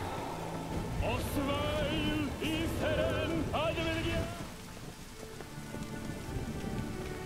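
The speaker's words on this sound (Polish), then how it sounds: "Czemu słyszę deszcz, jak jestem pod ziemią?" Steady, dense rain hisses and patters throughout the Witcher 3 game while the player is underground, with voices and tonal game sounds laid over it.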